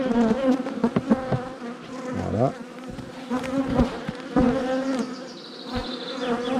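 Honey bees buzz densely and steadily around a queen cage during queen introduction, a close continuous hum with individual bees droning past, and a voice briefly speaks over it.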